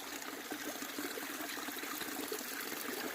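Water trickles steadily through a gravity filter on an Appalachian Trail section hike, a continuous close, fairly quiet hiss-like flow with no talk.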